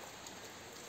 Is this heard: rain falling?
yes